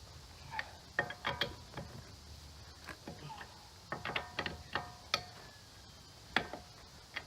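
Wrench loosening car wheel lug nuts, a series of sharp metallic ratcheting clicks and clanks in irregular bursts, fairly quiet and close with pauses between turns.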